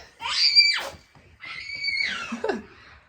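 Young children shriek loudly while running around outdoors, two long high-pitched screams close by, separated by a brief pause, with no other voices.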